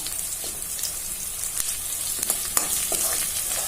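Ginger-garlic paste, bay leaf, curry leaves and turmeric sizzle steadily in hot oil in a pan, a continuous crackling fry with a few sharper pops and stirring scrapes, close and with no talking.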